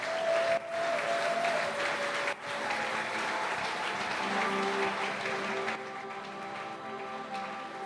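A church congregation at a French-language service applauds a pastor, sustained dense clapping and crowd noise filling the room for several seconds before tapering slightly, with a faint held tone underneath.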